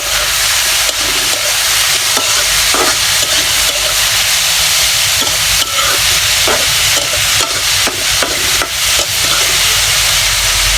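Vegetable bhaji with green chili and onion frying in a pan while being stirred, a loud constant sizzle and hiss broken by repeated scraping strokes of the spatula, close up with no talking.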